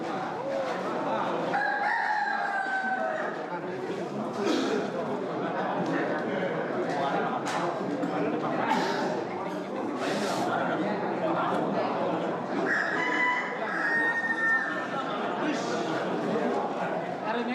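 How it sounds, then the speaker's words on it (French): Rooster crowing and clucking in a Bali village where fighting cocks are kept, with repeated crows rising over busy background noise and people talking nearby. "Acheter un coq qui va combattre et mourir?"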